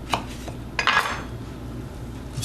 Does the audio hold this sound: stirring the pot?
yes